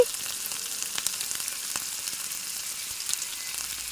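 Bangada mackerel fish fries in a pan of hot oil, giving a dense, even hiss with small scattered crackles and pops, steady and close without any voices.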